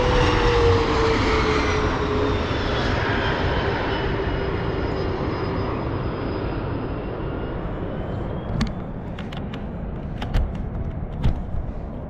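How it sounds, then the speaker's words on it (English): Propeller airplane passing low overhead near an airport, a loud sustained engine roar that slowly fades over about twelve seconds, with a few sharp metallic taps near the end. "Comes a plane. The plane, boss."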